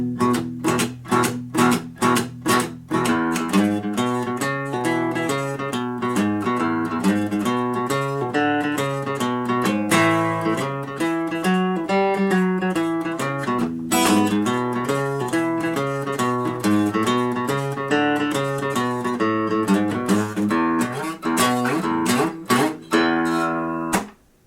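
Solo guitar plays the first twelve bars of a song slowly, a steady picked boogie line with a thumbed bass and open-string upbeats, close and clear with no talking.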